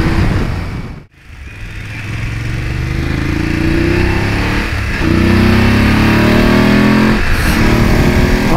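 A BMW F850 GS adventure motorcycle is ridden on a road, its engine droning steadily and rising in pitch as it accelerates through the gears, loud and close with rushing wind.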